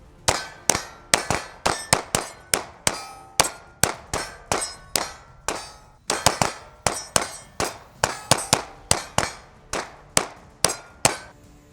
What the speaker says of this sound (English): Let's go ahead and shoot 2 mags through it clean.